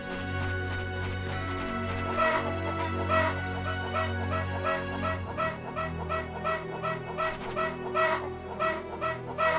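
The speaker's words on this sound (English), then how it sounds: "We're not getting attacked by cuckoos." Cuckoo creatures in the PS2 game Star Ocean: Till the End of Time cluck in quick, rhythmic bursts like hens over steady background tones, loud and continuous.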